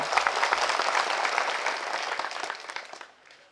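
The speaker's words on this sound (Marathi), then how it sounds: "माझी तुम्हाला विनंती आहे, यांच्यासाठी टाळ्या वाजून यांचं अभिनंदन करा" Crowd applause at an election campaign rally, dense, close clapping from many hands that holds strong and then fades out near the end.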